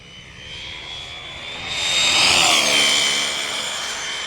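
An Arrma Talion EXB 6S RC car tears past at speed, its high-pitched electric motor whine rising loudly to a close peak and then fading slightly as it moves away, with no voices.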